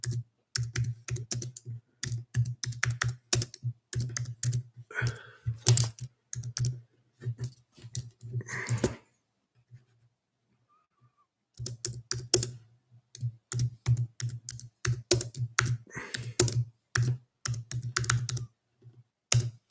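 Rapid keystrokes on a computer keyboard as the title of a book is entered, in dense close bursts of clicking with a brief pause near the middle, and no talking.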